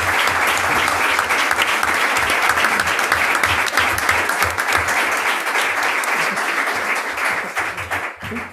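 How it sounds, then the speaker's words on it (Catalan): Dense, loud applause fills a university conference hall for the speakers, steady for about eight seconds before tapering off at the close. "Un aplaudiment, sisplau, pels ponents"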